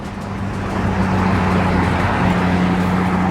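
A BMW Z3 engine revs toward 6,500 RPM. It gives a loud, close, sustained drone that rises and holds steady, with no voices.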